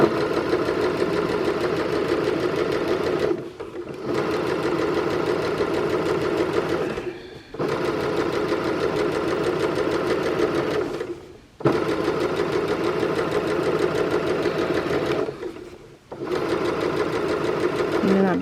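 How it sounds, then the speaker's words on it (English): A sewing machine stitching over a side seam while making a Poppy Dress top, running loud and steady in long bursts with short pauses between runs. "I am going to sew right over the seam"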